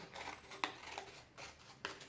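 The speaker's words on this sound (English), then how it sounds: "I'm using grown-up scissors" Scissors cut strips of paper in a quiet room, with three distinct snips close to the microphone at a slow, even pace and soft paper rustling between them.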